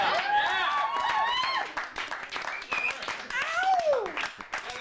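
Applause from relatives at a family reunion in Lutsen, Minnesota, a fairly loud round of clapping lasting a few seconds, mixed with whoops and cheering voices and some chatter over the top.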